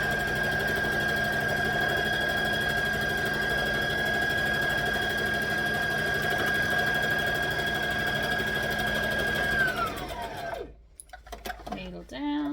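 A sewing machine runs steadily, stitching the fabric of a library bag with an even mechanical whir for most of the stretch, then winds down and stops near the end, leaving quieter handling noises.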